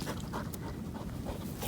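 A dog panting on a beach on the Scottish Highlands' north coast, quick close breaths in a steady rhythm over a soft background of wind and surf.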